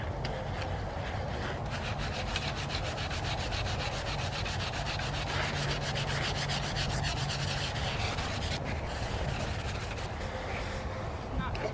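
Sponge scrubbing a garden pot with Euro Scrub scrubby cleanser, a steady continuous rubbing and scouring that runs close and loud throughout, with faint talk in the background.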